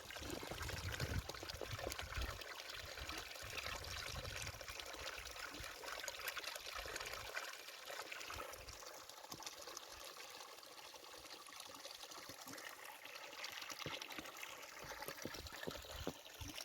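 Water runs steadily from a village fountain on a snowy winter road in Turkey, a continuous splashing trickle and pour heard close and alone throughout.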